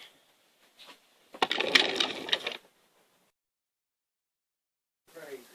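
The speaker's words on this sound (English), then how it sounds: "I want to sew up this right here seam right here." A sewing machine stitches a seam on training underwear in one burst of about a second, with faint clicks before it and a short second run at the end, close and alone.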